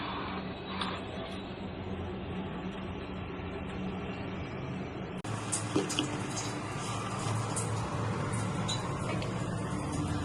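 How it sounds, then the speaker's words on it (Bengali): Water runs steadily from a kitchen tap while dishes are rinsed. A continuous hiss and splash grows fuller partway through as the flow increases, close by and with no talk over it. "চটপট করে ধুয়ে নিই।"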